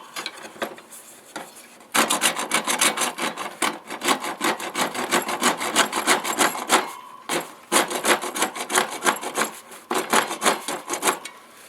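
The edge of a WJQ-308 military shovel's saw blade cuts PVC conduit at an angle, making loud, rhythmic rasping strokes back and forth, close and alone, with a short pause partway through.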